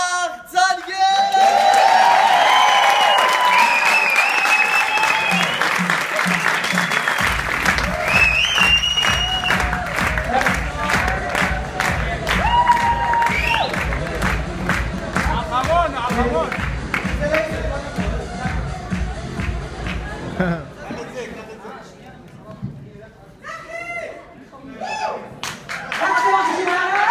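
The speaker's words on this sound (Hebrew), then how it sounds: "תקבלו במחיאות כפיים סוערות את צח צנגן" A big event crowd breaks into stormy applause and rhythmic clapping, with whoops and cheers on top and heavy thumping beneath, loud and continuous before thinning out near the end; a voice briefly speaks over it.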